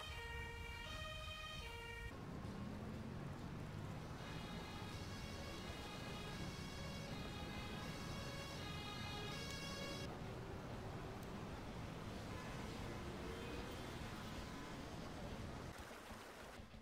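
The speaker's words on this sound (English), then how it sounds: "Ambulance is taking the casualty to the hospital ward at the base" Ambulance siren wailing in the emergency-services video game Emergency 5, a steady electronic two-tone pattern that runs loud and continuous over game ambience and vehicle rumble for most of the stretch.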